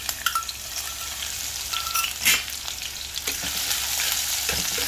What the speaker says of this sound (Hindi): तो तेल हमारा गरम हो चुका है, इसमें ये हम हरी मिर्च और लहसुन डाल देंगे।